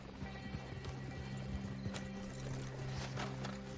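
Horse hooves clip-clop in a steady rhythm, with a soft whinny and a low hum underneath.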